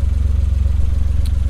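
Suzuki Every Turbo DA52V van engine idling close by, a steady, even low rumble with a faint regular pulse and no voices.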